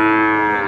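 A young Limousin cross calf, hornless and around seven months old, gives one loud, sustained moo at a livestock market in East Java, close and clear with no talking.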